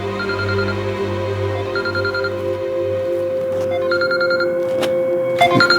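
A phone rings in repeated electronic bursts over a steady low hum, moderately close indoors, with a few clatters near the end and no talking.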